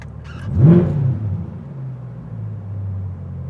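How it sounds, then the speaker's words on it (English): A Corvette C8 engine revs briefly then settles into a low, steady exhaust rumble while driving, close and fairly loud. "I can still hear the exhaust just fine"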